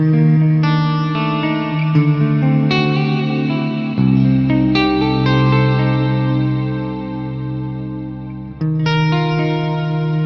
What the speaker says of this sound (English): Plate is inspired by the classic EMT 140. This is smooth and lush with fast diffusion.